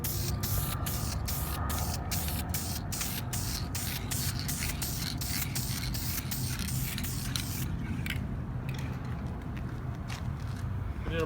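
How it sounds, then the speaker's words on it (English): Aerosol spray can hissing in rapid short bursts over car interior plastic and leather parts during interior painting, a steady close spray with rhythmic pulses, then a longer continuous hiss near the end. "Get a little bit of spraying action."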